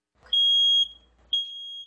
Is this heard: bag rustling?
no